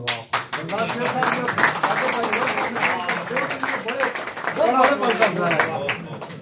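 Applause and clapping from an audience at a political gathering of Mughal tribes, with sharp, rapid claps sounding throughout while a voice speaks over them at length.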